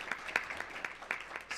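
Brief, faint scattered clapping from an audience at a school district board meeting, a few distinct claps in a loose rhythm over quiet room tone.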